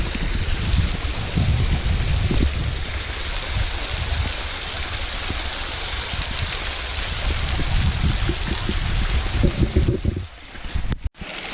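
Waterfall pouring in the Wichita Mountains, a continuous loud rushing roar of falling water heard close up, with a burst of wind buffeting and handling noise near the end.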